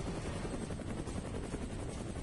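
The rotor of a helicopter in the video game Prototype 2 thumps in a steady, continuous churn, loud and close, with no voices over it.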